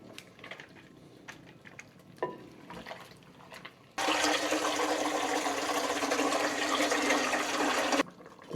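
Water poured into a stew pot of guiso carrero on a lit stove, a loud rushing pour that starts abruptly after quiet kitchen clatter, holds steady for several seconds, then cuts off.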